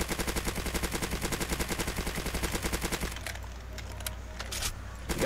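Rapid automatic gunfire from a weapon in a Roblox zombie video game, a steady stream of evenly spaced loud shots for about three seconds, then scattered quieter game sounds.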